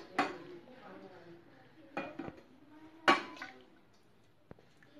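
Heated milk is stirred into jaggery tea in a pan, with a few sharp spoon-on-metal clinks spaced out over a few seconds and quiet moments between them.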